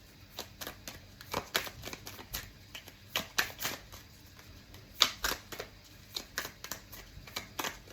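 Oracle cards being shuffled by hand to draw a single card, a steady run of soft, close riffling flicks and slaps with no talk over them.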